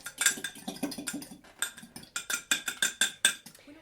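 An egg being mixed in a bowl with a utensil, heard as a quick rhythmic run of close, bright clinks and taps against the bowl, roughly a dozen strokes in under four seconds, with no voices.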